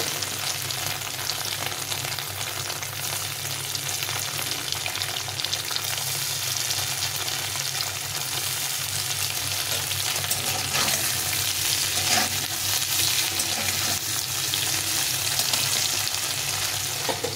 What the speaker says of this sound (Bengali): একটু হালকা করে ভেজে নেব, বেশি ভাজতে হবে না।